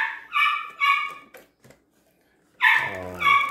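A dog gives a few sharp, high barks in quick succession, then falls quiet before a louder, close bark-whine burst, with no talk.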